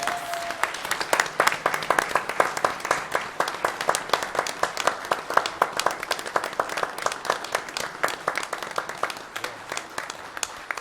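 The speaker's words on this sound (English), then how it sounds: "But let's give her a round of applause." A room full of people at a Putnam County commission meeting claps steadily and evenly for about eleven seconds, dense and fairly close, with no voices over it.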